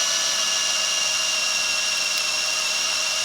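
Power drill running steadily with a 3/8 inch bit while boring a hole in a handmade fishing lure, a continuous high whine with strong tonal bands, loud and close, with no talking.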